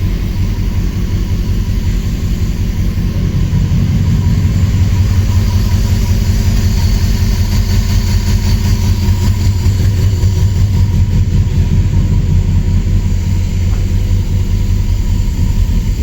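A Subaru engine swapped into a VW T3 bus runs at a steady idle, a loud, even low rumble with a constant drone that holds unchanged from start to finish.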